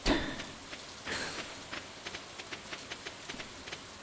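Rain falling in the farming video game Stardew Valley, a soft, steady patter with faint repeated droplet ticks, quiet and continuous with no talking.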